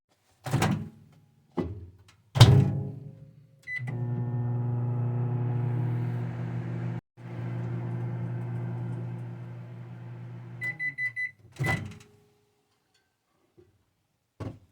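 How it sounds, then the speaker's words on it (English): A microwave oven heating ready ramen pad thai hums steadily through two long runs, with door clunks before and between them and a few short beeps near the end. "let's get that in the microwave."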